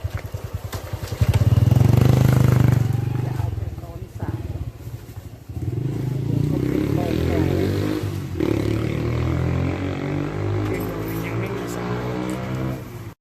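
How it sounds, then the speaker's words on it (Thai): Motorcycle fitted with a modified PP Moto exhaust pipe, idling loud and close before rising through repeated revs with a rough, crackling exhaust note. Voices talk underneath at times. "หลังจากได้ท่อผ่าหมกของ PP m o t o นะครับเจ้าของก็ อยากลองอีกครั้งหนึ่งนะครับ"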